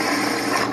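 A drill bit breaks through a steel plate being made into bolt-on hooks for a 2017 John Deere 2032R loader, giving a brief, steady grinding-rasping whir that stays even and close for under a second.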